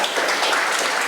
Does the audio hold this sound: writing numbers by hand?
no